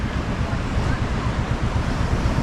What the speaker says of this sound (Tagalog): malalaki po ang alon